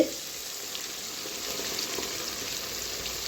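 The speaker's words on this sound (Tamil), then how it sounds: "இந்த பேஸ்ட்டை சேர்த்து நம்ம அப்படியே இந்த எண்ணெயிலே வதக்கணும்னு வைங்களேன்" Ground masala paste for a bottle gourd curry sizzles in hot oil, a soft, steady frying hiss after a brief hit as it lands in the pan, quiet and continuous.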